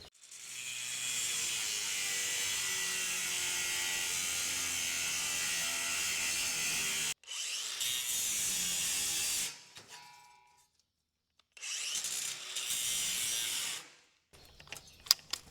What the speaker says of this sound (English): So now I'm just gonna clean this up with a wire wheel, try to shine up some metal